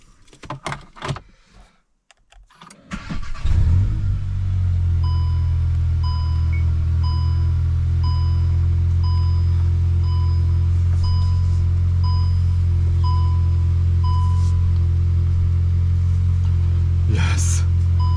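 A Cupra Formentor engine cranks and catches after a few clicks, then settles into a steady, loud low idle with a faint repeating chime over it.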